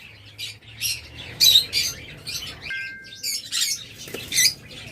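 A pair of blue mask lovebirds for sale at a bird market squawks close by in repeated harsh bursts, with a brief whistling tone partway through and a low hum beneath.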